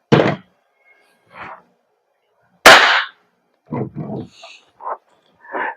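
A WE Glock 34 Gen 4 airsoft gas blowback pistol fires with sharp, close snaps spaced irregularly across several seconds, each a brief burst followed by quiet.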